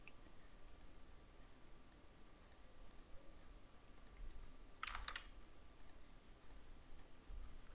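Light typing on a computer keyboard, sparse soft key taps spread through a quiet room with a short flurry in the middle, faint and close with no voices.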